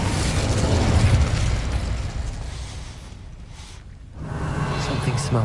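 Incendio fire spell cast in Hogwarts Legacy, a loud roaring whoosh of flame that fades briefly before surging again, with a spoken incantation over it.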